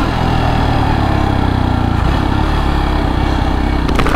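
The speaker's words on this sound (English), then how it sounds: "Maybe you can hear the engine a little bit better." A 2024 Jawa Perak 350 motorcycle engine running while riding, a steady, loud, low droning thrum with continuous rumble and wind, holding an even level throughout with no talk over it.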